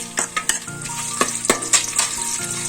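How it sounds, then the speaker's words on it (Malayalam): Ginger and garlic frying in a hot pan for egg fried rice, a steady sizzle broken by several sharp stirring scrapes and clinks of a utensil, close and fairly loud with no talk. "നമ്മള് കുറച്ച് ഇഞ്ചിയും വെളുത്തുള്ളിയും വെച്ചിട്ടുണ്ട്. അതും കൂടെ ഒന്ന് വറുത്തെടുക്കാം."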